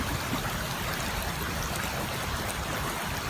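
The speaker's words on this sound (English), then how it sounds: "See how long this takes to filter up my half liter." Water runs through a Katadyn BeFree filter into a container outdoors, producing a continuous soft trickle and splash that stays even for the whole short stretch.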